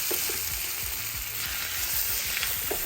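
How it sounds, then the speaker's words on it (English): Garlic sizzles steadily in a hot pan for a vegan curry, with a spoon stirring and scraping through it in short strokes, close and alone. "I'm gonna add some garlic to this recipe as well. We're gonna mix that in."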